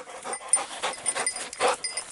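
A hunting dog pants rapidly and close by during a small-game hunt, with short, breathy bursts repeating steadily over about two seconds.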